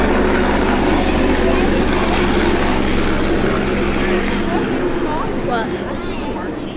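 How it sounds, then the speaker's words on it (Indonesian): A helicopter flying overhead in Rio de Janeiro drones loudly with a throbbing rotor thump that slowly fades a little toward the end, and voices can be heard faintly underneath. "Wih, ada helikopter."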